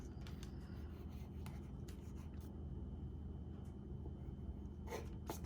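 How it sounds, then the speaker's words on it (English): A knife drawing through rolled-out pastry dough on a board, soft scraping strokes with a few sharper scrapes toward the end, faint against a steady low background hum. "So now I'm just gonna cut it in half."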